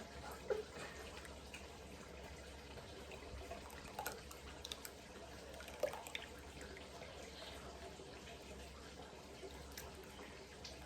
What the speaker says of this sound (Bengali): গোলায় রাখলে যে ঝোলটা হয় সেই ঝোলটাই দিবেন যেটা আমি ছাইকা নিচ্ছি